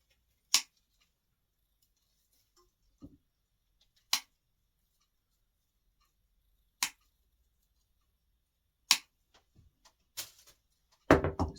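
Scissors snip through artificial Christmas foliage in a handful of isolated crisp cuts spaced a couple of seconds apart, then a quick cluster of snips with rustling at the end; quiet, close, no talk.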